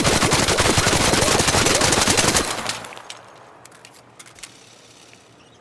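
Close-range automatic weapon fire in the ARC Raiders video game, a loud, dense sustained burst lasting about two and a half seconds that cuts off, followed by a few faint scattered clicks and distant shots.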